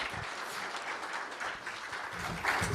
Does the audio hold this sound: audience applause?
yes